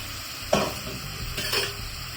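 Eggplant slices sizzle softly in hot oil in a pan for a Goan-style pickle, with two brief louder bursts of frying hiss as pieces are moved or turned, close and otherwise quiet.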